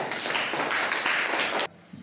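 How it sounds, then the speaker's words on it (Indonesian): Schoolchildren in a classroom clap together for a student group: a brief, lively burst of close, dense handclaps lasting under two seconds that stops abruptly, followed by a faint sound. "Yuk, tepuk tangan untuk kelompok 3."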